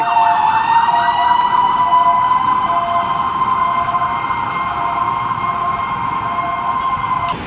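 A small fire truck's siren wails steadily and loudly for the whole stretch, its tone holding high with slight wavering, close by amid EDSA street traffic in Quezon City.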